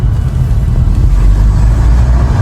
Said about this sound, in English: The engine sounds really good for an engine that had a bearing knock